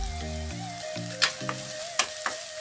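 Green chilli, garlic and ginger fry on high flame in a pan, a steady close sizzle punctuated by several sharp stirring clicks and scrapes, with no talking.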